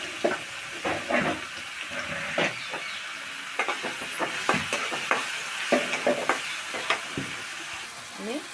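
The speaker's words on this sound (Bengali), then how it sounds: "এই যে কালি জিরাটা আমি ভাজবো, তেলে আমি ভেজে নিব।" Nigella seeds fry in hot oil, a continuous sizzle broken by repeated clattering stirs and scrapes of a utensil in the pan, close and fairly loud.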